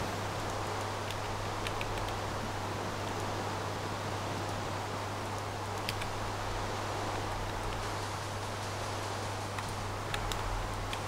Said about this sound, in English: Working in the rain is the worst.